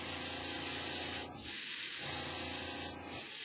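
Airbrush spraying paint through a needle and Mac valve, a loud continuous airy hiss that drops out briefly twice before resuming, close and alone with no talking.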